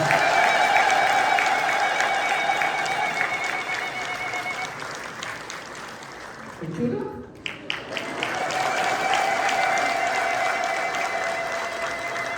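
Church congregation applauding at an Ethiopian Orthodox Sunday school gathering, a broad continuous clatter of many hands that thins briefly in the middle before swelling again, with a sustained tone running beneath.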